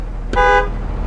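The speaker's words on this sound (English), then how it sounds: "standard street horn there" A standard street horn on a 2009 Blue Bird All American 42-passenger school bus gives one short, loud, steady toot of about a quarter second, close by, over a low idling rumble.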